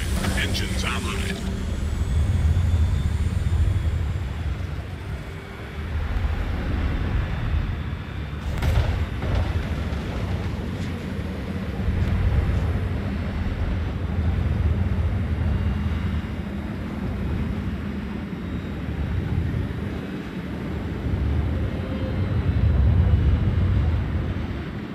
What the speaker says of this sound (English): Engines online.